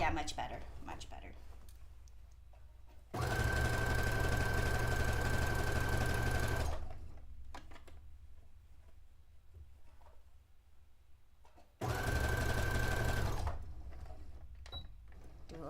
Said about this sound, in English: Do a little back stitch at the center back.